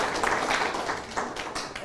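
A crowd at a university training session breaks into applause, a brief continuous wash of many hands clapping at fairly even loudness.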